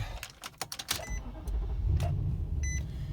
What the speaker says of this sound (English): Hop in and start it up.